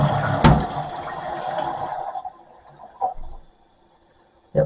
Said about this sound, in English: full flush